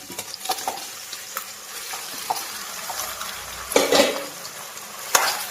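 Chicken frying in a pan with onions and green chillies, a soft continuous sizzle under intermittent stirring scrapes, with louder clattering bursts as pieces are tossed and moved around, close by and without talk.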